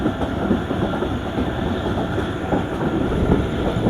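A Marvi Passenger train leaving a railway station in the Thar Desert near Khokhrapar in light drizzle rolls steadily on its rails, a close, continuous rumble with rhythmic clickety-clack wheel clatter and no voices.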